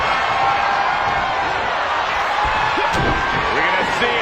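Wrestling arena crowd during a Royal Rumble match, a loud, continuous roar of cheering and whooping that fills the space, with a few sharper thuds and swells rising near the end.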